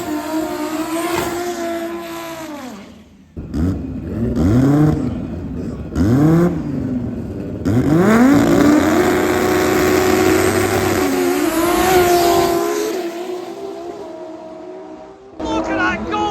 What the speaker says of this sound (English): Probably a 1500 horsepower V5, and then this 7-second world's fastest Golf.